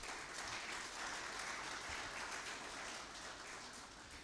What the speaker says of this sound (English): Could we kindly give them a hearty hand clap?